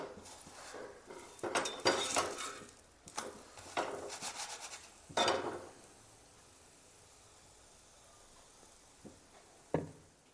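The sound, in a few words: spreading oil on aloo methi paratha on the pan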